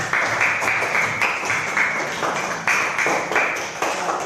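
Steady applause from a group, many hands clapping in a continuous patter with slight swells, fairly close and loud, no talking.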